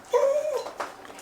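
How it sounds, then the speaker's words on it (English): A dog gives a single short, loud whining bark with a rising-then-falling tone, followed by a fainter second yelp, close by in a quiet indoor room. "What's he barking at?"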